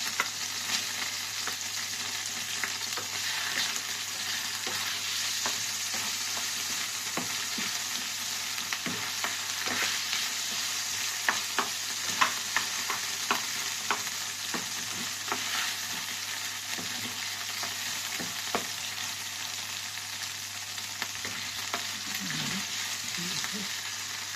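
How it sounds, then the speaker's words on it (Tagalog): Garlic fries in a pan for a beef and vegetable stir-fry, giving a steady, bright sizzle throughout, with scattered scrapes and clicks from stirring close by. "Lagay po natin ito ang ating bawang."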